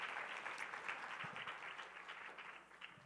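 An audience at a reading and writing workshop for primary school teachers applauds in a dense burst of clapping that fades gradually over a few seconds.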